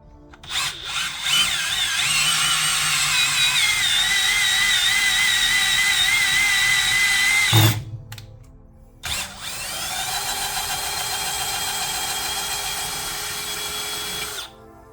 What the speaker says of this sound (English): clean it up, drill out the holes, and we'll put it together.